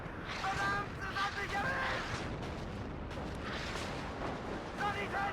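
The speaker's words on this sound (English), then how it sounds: "So let's just try firing entire card of 122 mm Howizers on KDA Schutzen." A 122 mm howitzer battery in the video game WARNO fires, giving heavy booming rumbles over a constant roaring background, with someone talking over parts of it.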